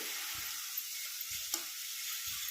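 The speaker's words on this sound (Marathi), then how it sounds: "तर बघा तेल गरम झालेलं आहे. तर हे बघा मिरची मी टाकून घेतली." Crushed green chillies sizzle in hot oil, a soft steady fry close by, broken by a few light taps and stirring scrapes in the pan.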